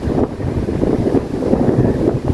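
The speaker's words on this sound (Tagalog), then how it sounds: "ang lamig ng simoy ng hangin" Steady cool breeze rushing across an outdoor microphone in a cherry blossom garden, a continuous low roar with gusty fluctuations and no talking.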